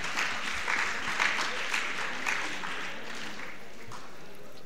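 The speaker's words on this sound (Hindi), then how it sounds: "दोनों के लिए भी तालियां" Applause for award recipients at a Jain gathering, a steady, moderately loud patter of many hands clapping throughout, with a faint murmur beneath and no clear speech.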